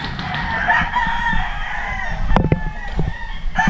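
Several roosters crow over steady clucking from a large flock of more than a hundred chickens, many tied up on a farm, with overlapping calls near and farther off.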